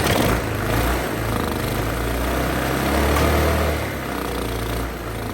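A Honda GX160 small gasoline engine on a mini bike build idles steadily and close by, a continuous low rumble with no voices over it.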